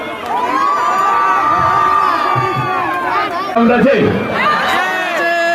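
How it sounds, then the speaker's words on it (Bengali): A large outdoor crowd cheers and shouts at a film event with the superstar Dev in Purulia, children's shrieks and whoops rising over a steady roar that swells loudly near the end. "তোমাদের জন্য একটা জোরে হাততালি হয়ে যাক"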